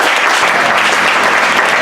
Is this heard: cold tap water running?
no